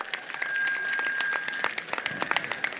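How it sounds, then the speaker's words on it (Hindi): A crowd of supporters claps to welcome Naresh Meena at a rally, fairly faint scattered claps with a steady tone running beneath, swelling briefly before breaking into separate sharp claps. "जोरदार स्वागत, तालियों के साथ स्वागत करें।"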